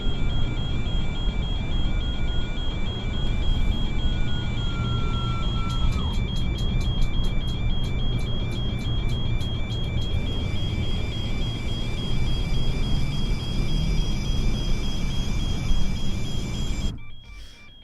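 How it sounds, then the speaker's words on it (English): A steady, high electronic beeping tone persists over loud engine rumble inside a vehicle, with a brief rapid series of beeps partway through. "just deal with the beeping for a minute, guys"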